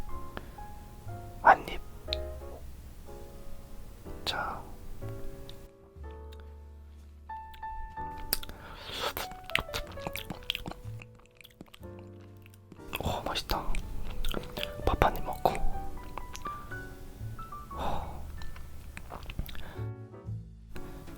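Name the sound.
chewing and eating soy sauce marinated crab with rice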